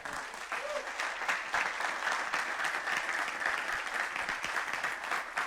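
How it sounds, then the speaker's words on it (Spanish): A church congregation claps together in sustained, fairly even applause for several seconds during a Spanish-language Bible study service. "Dele palmas a Cristo, hermano."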